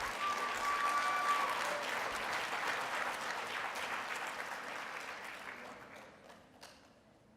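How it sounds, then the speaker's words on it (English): An audience at a school writing-challenge program claps for the teachers, a broad wash of applause that swells early and then gradually fades toward silence at the end. "Let's get one more round of applause for those teachers"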